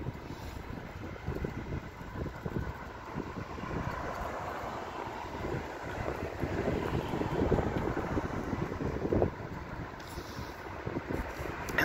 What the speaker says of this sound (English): I hope the wind doesn't pick up too much. It is a little windy out.